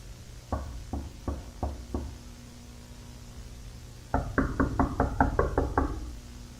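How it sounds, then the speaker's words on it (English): A door knocked on in an analog horror piece: first five slow, evenly spaced knocks, then a pause, then a quicker run of about eight sharp raps. Close and distinct over a low hum. "Do not answer at the knocking door."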